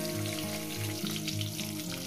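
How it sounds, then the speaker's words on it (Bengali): Eggs frying in hot oil in a pan, a steady close sizzle with a low rhythmic thumping tone running underneath, no talking. "ডিমগুলো সুন্দর করে একটু ভেজে নেব"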